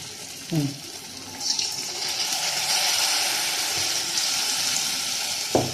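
Gokul pitha frying in a mix of oil and ghee, a steady bubbling sizzle that stays moderately loud throughout, with a few brief clinks and splashes near the start and end; no one speaks.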